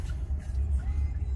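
A classic car rumbles past nearby on a town street, a low steady engine and road drone that swells briefly and holds for a moment without any talk over it.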